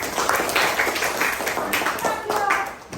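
A classroom of students clapping hands together in a burst of applause, dense and lively, with voices chattering over it.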